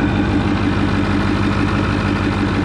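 A 6.4 Powerstroke diesel truck engine idles steadily after being started, a loud, constant low rumble with no break and no talk over it.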